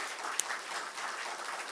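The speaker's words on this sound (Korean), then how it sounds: "정말 박수로 한번 격려하겠습니다" Congregation applauding during a Sunday church service, a steady, moderately loud wash of clapping from a gathered crowd lasting under two seconds, with one sharp tap near the start.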